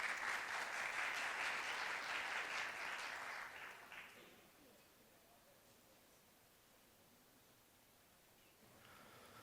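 A conference audience applauds to welcome the next speaker at a technology talk, a steady round of clapping for about four seconds that fades into quiet room noise before faint rustling returns.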